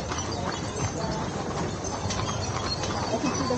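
Rhythmic hoof clip-clops of horses pulling a stagecoach at Knott's Berry Farm mingle with a busy outdoor crowd murmur, steady and moderately distant throughout.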